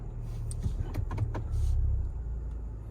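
Air suspension on a 2022 Volvo XC90 T8 Recharge plug-in hybrid lifts the front end in off-road mode, heard as a brief close electric whirr with a few soft clicks over steady cabin hum.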